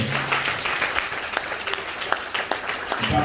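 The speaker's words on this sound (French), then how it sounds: "Applaudissez le Seigneur." Congregation applauding in a church service, brisk steady clapping from a crowd, fairly close and continuous.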